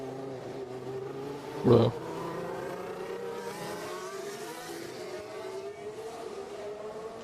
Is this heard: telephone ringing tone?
no